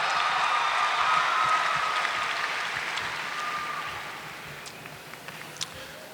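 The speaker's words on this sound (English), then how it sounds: "Give them all a round of applause." Crowd at a 2014 David W. Carter High School graduation applauds the graduating class, a steady wash of distant clapping that gradually fades toward the end.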